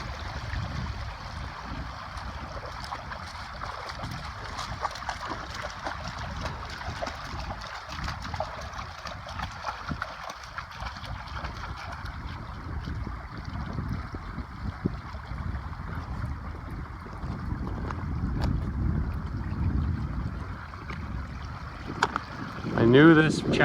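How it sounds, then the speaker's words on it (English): Fraser River flash flood water rushing down a channel in the Cariboo gold-mining area, a steady broad wash of flowing water that swells louder toward the end. "There's how Fraser River flash flood happens"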